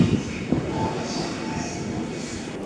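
A train approaches at Nishi-Funabashi station, a low steady rumble with faint rail noise and a few soft knocks, ending in a sharp click.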